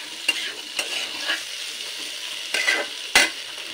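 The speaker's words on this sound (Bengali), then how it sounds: "তো লবণ হলুদ দিয়েও ভালো করে মিশিয়ে দেব।" Potatoes tossed with salt and turmeric in a pan, a steady soft sizzle of frying broken by a few scraping stirs of a utensil, close up with no voices.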